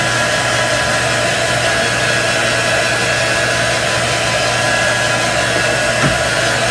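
A heat tool blows hot air close by to dry chalk paste on a wooden growth chart, a loud steady whooshing fan hum throughout with no talking.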